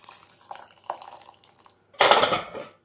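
Boiling water poured over onions in a pot, one brief loud splashing pour near the end after a few soft kitchen clinks.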